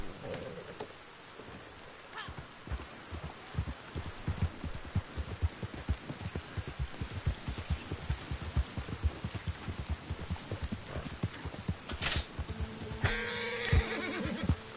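In Red Dead Redemption 2, a horse whinnies loudly amid a steady clatter of hooves and rain, with a sharp burst of neighing near the end.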